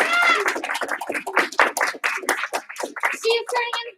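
Children at a karate class clapping in unison, sharp hand claps mixed in with an adult voice speaking over and between them, close and fairly loud.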